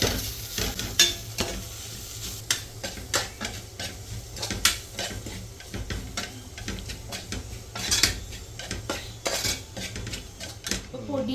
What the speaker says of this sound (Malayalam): ഉള്ളി ഒന്ന് വഴണ്ട് ഏകദേശം ഒന്ന് വെന്ത് വരാറായിട്ടുണ്ട്